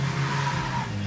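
An old-school muscle truck with a four-link rear suspension, engine roaring loudly with tires scrubbing as it drives hard around cones, a brief sustained burst.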